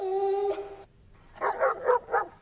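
A dog's drawn-out whine gives way, after a pause, to four quick, fairly close barks in a short burst.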